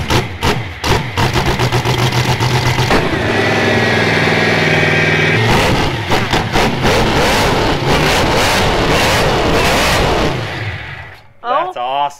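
A derby car motor with a blower on top fires up and revs hard, a loud roaring engine with rising and falling pitch that holds steady before dropping off abruptly as voices come in at the end.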